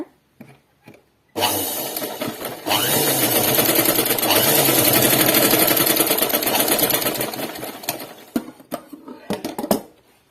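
A sewing machine stitches a collar-neck dress in one long, loud whirring run of about six seconds that slows toward the end, with quiet handling sounds before it and a few clicks and taps after it stops.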